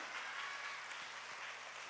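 Children applauding in a church during a kids' prayer service: a short, dense, even wash of many hands clapping together, faint and distant, with no voices over it.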